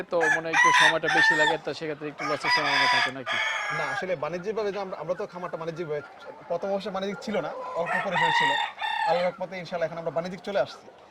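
Desi chickens on a farm near Sunamganj crow loudly and cluck in overlapping bursts, several birds close by with repeated drawn-out calls over a busy flock.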